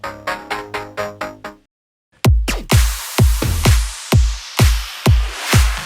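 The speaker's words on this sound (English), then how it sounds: "I just created some super simple saw chords with some weird effects on them" Simple saw-wave synth chords processed with odd effects, playing a short phrase of repeated stabs, then a brief gap before louder, brighter chord hits return in a steady rhythmic pattern with sweeping, smeared tails.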